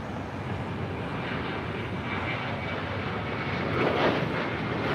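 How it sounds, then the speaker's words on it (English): Turkish Airlines Boeing 777 arriving at LAX from Istanbul, a continuous broad jet engine roar that holds steady and swells slightly near the end, heard alone without talk. "Turkish 777. Turkish 8 Mike Tango coming in from Istanbul."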